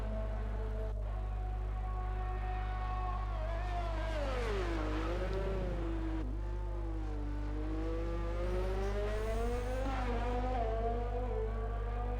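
Race car engines at Monza in the iRacing video game during a safety-car period, near the Ascari chicane; a loud, close engine whine rises and falls with revs over several seconds and carries on steadily.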